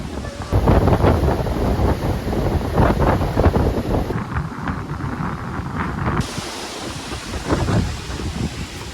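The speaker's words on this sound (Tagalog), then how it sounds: "Lakas ng hangin." Strong wind buffets the microphone in loud, continuous gusts at Sabang, Ilocos, Philippines, with a roaring, rushing rumble and no voices.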